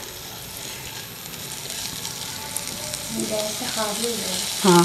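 Garlic frying in oil over a high gas flame, a steady loud sizzle with stirring clatter, brief speech over it and a sharper crackle at the end.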